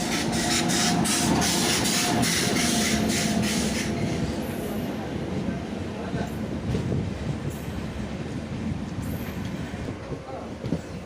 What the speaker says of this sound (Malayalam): ഒരു ട്രെയിൻ എതിരെ വരുന്നുണ്ട്